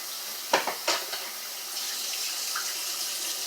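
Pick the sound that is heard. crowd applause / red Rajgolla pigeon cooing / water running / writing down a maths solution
water running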